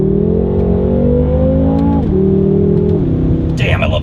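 A luxury sedan accelerates hard with the traction control light flashing, its engine rising steadily through the gears with loud, close revving and shift drops, while people talk over the engine noise.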